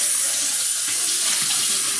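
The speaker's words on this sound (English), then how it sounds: "I might pour it in here so it can stay cold" Wine cooler poured into a Dunkin' cup, a steady splashing liquid stream running close and continuous throughout, with no talk over it.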